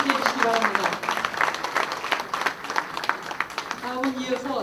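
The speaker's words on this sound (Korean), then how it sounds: "자리에 계신 모든 분들도 박수로 함께 동행을 약속해 주시기 바랍니다." An audience at a women's committee political event claps together, a sustained patter of many hands, with a voice talking over the start and end.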